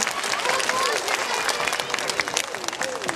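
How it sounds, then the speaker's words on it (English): Children applaud at an elementary school morning assembly, a dense, steady patter of many small hands that fills the room without pause. "So give them a round of applause."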